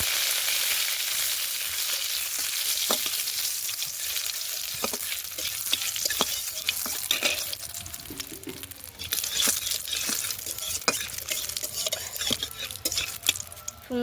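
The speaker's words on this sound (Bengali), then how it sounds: "তো প্রথমে একটু তেল দিয়ে দিলাম, তেলের মধ্যে দেবো বেশ কয়েকটা টুকরো করা শুকনো লঙ্কা" Pieces of dried red chili fry in oil in a kadai, giving a steady close sizzle with occasional sharp ticks and stirring clinks throughout.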